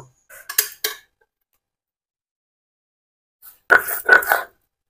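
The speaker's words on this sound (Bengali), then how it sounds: "মশলাগুলো একটু বেটে নিব, আদা রসুনগুলা বেটে নিব।" Ginger, garlic and whole spices ground by hand for tala masala beef, heard as a few short scraping, rubbing strokes followed by a louder cluster of gritty grinding bursts near the end, with quiet gaps between.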